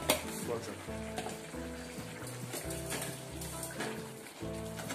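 Eggplant, potato and dried fish curry sizzling in a pan while being stirred, a steady close frying hiss with soft scraping under a faint background hum.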